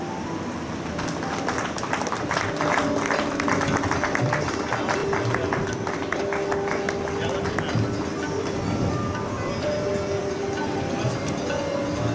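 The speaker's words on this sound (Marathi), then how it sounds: "पंकजसाठी जोरात टाळ्या होते." Dense applause from an audience at an award felicitation during a carrom league event, sustained rapid clapping throughout with voices mixed in underneath.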